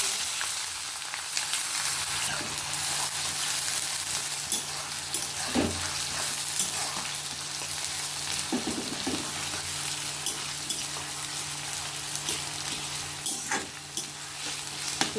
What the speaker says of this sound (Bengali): পেঁয়াজটা আমি হালকা ব্রাউন করে নেব